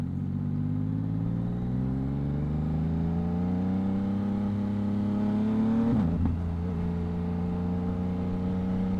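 Yamaha MT-09 motorcycle fitted with a Two Brothers exhaust, riding with a quick shifter: a loud, steady engine drone rising in pitch as it accelerates, then a quick drop at a gear shift before pulling again, heard close with no talking.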